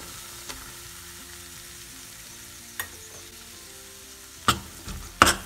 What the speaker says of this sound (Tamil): இதை வந்து நல்லா ப்ரௌன் கலரில் மாறுற வரைக்கும் நம்ம வறுத்துக்கிட்டே இருக்கணும்.